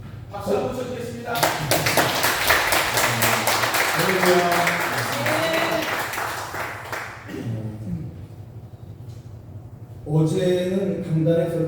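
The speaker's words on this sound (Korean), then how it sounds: "박수 한번 쳐드리겠습니다." Congregation applause during a church autumn revival service, a burst of clapping rising over a short spoken introduction and fading out before a voice picks up again.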